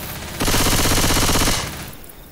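An assault rifle fires in the video game Left 4 Dead as one loud, rapid automatic burst of about a second, then fades into quieter game ambience.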